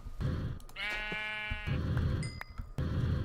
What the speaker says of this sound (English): let me go grab a sheep with a piggy on his head